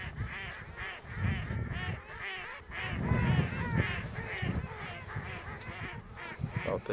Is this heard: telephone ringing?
no